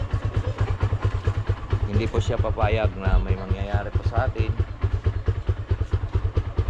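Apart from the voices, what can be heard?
motorcycle engine running after not starting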